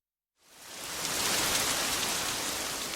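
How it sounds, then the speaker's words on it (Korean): Heavy rain shower pours steadily outside a window, a dense, even hiss that swells in over the first second and stays loud and continuous, with no voices. "창밖으로 소나기처럼 억센 비가 내리고 있다"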